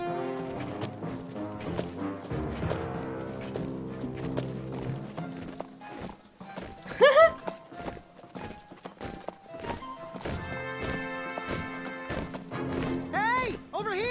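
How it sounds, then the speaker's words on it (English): Hoofbeats of a knight's white horse in the 2015 King's Quest video game, clip-clopping rhythmically amid game music and sound effects, with voices speaking over parts of it. "It's a knight in shining armor on a white horse."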